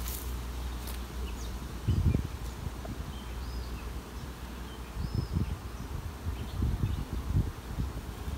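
A steady insect buzz hums throughout as bees work around freshly built honeycomb full of honey, with several louder swells as bees pass close by amid faint rustling.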